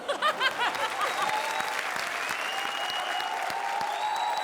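Studio audience on a comedy show bursts into loud, dense applause, a sustained wash of clapping with a few light chuckles at the start, holding steady to the end.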